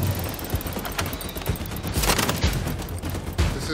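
Gunfire ricochets off an armored creature in Second Extinction, a steady run of rapid shots with metallic pings and thuds, loud and continuous with periodic heavier impacts.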